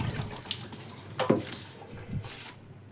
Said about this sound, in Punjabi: ਮਸ਼ਰੂਮ ਨੂੰ ਆਪਾਂ ਪਹਿਲਾਂ ਧੋ ਲੈਨੇ ਚੰਗੀ ਤਰ੍ਹਾਂ ਆਪਾਂ ਸਾਫ਼ ਕਰ ਲੈਨੇ ਆ